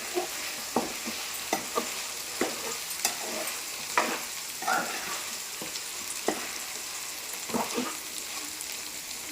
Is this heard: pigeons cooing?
no